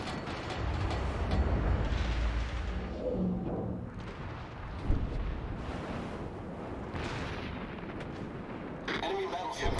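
Battleship main guns firing shells in a naval video game, heavy booming artillery volleys with deep rumbling roar and a sharp blast mid-way, alongside someone talking.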